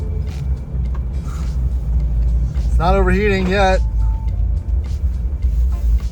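A high-mileage Land Rover Discovery 1 truck with 240,000 miles runs and drives, its steady low engine rumble filling the cabin from start to end while someone talks over it.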